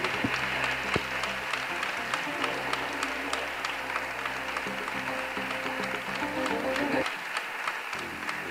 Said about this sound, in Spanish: quiero que el auditorio se caiga abajo con ese fortísimo aplauso para ellas